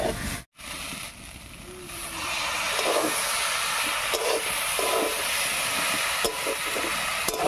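Spices sautéing in a pan with spice-paste water give a continuous sizzle and hiss, with occasional stirring scrapes and a short dropout near the start.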